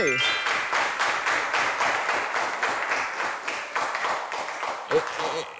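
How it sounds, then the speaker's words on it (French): Audience applause, a steady dense patter of many hands clapping throughout, fairly close and loud, with no voices over it. "Merci d'applaudir Fortuné."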